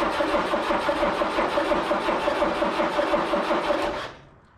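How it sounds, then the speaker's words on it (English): An old mini U-Haul box truck that sat for 35 years cranks after starter spray, a steady rhythmic whirring of the starter turning the engine over without catching, then cutting off abruptly. "Let's see if this engine's going to half run."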